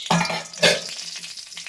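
Whole spices, bay leaves, dried red chillies and small cardamom drop into hot oil and sizzle loudly up close, with a sharp burst of crackling and some stirring scrapes.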